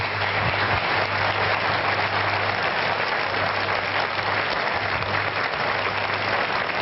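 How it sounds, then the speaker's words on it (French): A television studio audience applauds the famous stuntman Claude Carliez, continuous even clapping from many hands at moderate distance, with a low steady hum running underneath. "Claude Carliez, le cascadeur fort célèbre que je vous demande d'applaudir"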